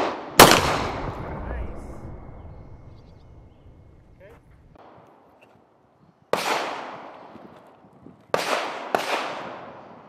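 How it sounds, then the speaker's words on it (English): Four sharp 9mm gunshots from a handgun or Sub 2000 carbine strike a ceramic armor plate at about 10 yards. One loud crack with a long decaying tail is followed later by three more, the last two close together. "We were shooting some 9mm out of the sub 2000, 9mm out of handguns, including the Shadow Systems MR920"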